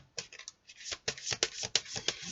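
Angel tarot cards shuffled and handled by hand for a four-card reading, a quick run of close, crisp riffling and flicking bursts with no talking.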